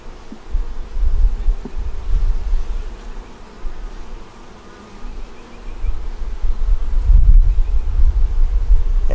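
Honey bees buzz steadily around an open hive as brood frames are lifted out for inspection, a close, continuous low drone with a brief louder swell near the end and no voices.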